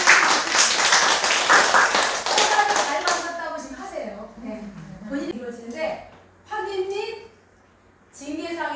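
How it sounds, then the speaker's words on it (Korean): Hospital staff at a monthly staff meeting clap together in a loud, brisk burst lasting about three seconds, then the clapping stops and a single person talks in a nearby voice. "박수 한번"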